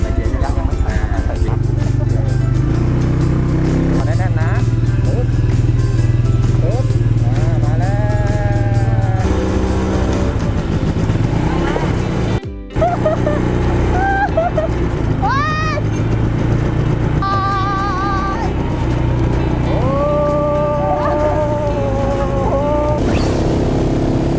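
An ATV engine starts and drives off-road. The motor runs steadily throughout with rising and falling revving tones, loud and close, while someone talks over it.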